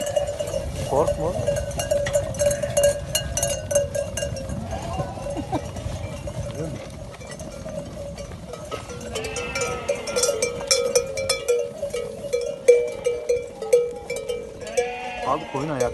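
Sheep bleat on and off, with cowbells clanking steadily and people talking nearby.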